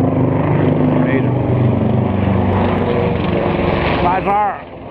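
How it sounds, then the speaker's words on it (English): A military helicopter flies over a city street in Montreal's Little Italy, its loud, steady rotor and engine roar filling the whole stretch and easing slightly near the end, with voices faint beneath it. "I wanted to get this chopper coming there. That's got to be military chopper. That's fucking loud."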